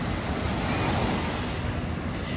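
Ocean surf washing in a broad, steady roar, loud and close, with a continuous rushing wash and no distinct breaks or voices.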